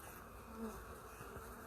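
Honey bees buzzing at an open beehive packed to the top of five frames, a close, continuous droning hum with individual bees passing near, quiet and steady.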